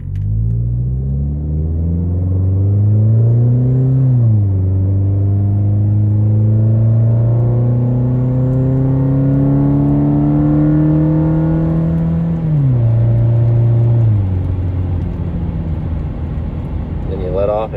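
A 2004 Toyota Camry fitted with an Evil Energy muffler pulls hard under throttle, a loud droning exhaust note rising steadily through the gears with brief dips at the shifts, close and continuous.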